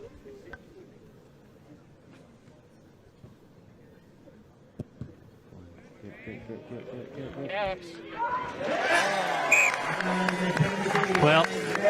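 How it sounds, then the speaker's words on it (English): Crowd at a Scottish men's Premiership rugby match between GHA and Glasgow Hawks reacts to a successful penalty kick, quiet murmur swelling after several seconds into loud, sustained cheering and applause. "Well, you'll hear from the crowd."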